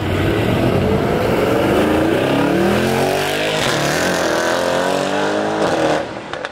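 A Mercedes E63S AMG fitted with aftermarket downpipes revs hard, a loud continuous roaring engine note with rising and falling sweeps over several seconds that fades slightly at the end.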